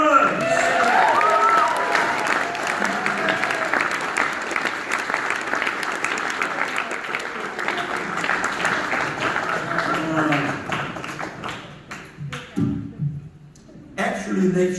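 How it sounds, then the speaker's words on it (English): An audience at the Variety Artists Club of New Zealand Benny awards ceremony gives sustained applause, dense clapping that fills the room for about twelve seconds before thinning into a few scattered claps. "And you'll give her a nice round of applause, Marian!"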